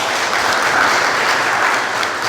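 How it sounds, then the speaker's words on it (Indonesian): A crowd at a regional branch work meeting of a youth organization claps together, a brief, full burst of applause that stays loud and even. "Tepuk tangan dulu lah."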